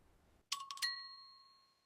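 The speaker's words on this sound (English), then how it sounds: "The doorbell rang." A doorbell rings once in a quiet room, a sharp struck chime followed by a clear, ringing tone that slowly fades away.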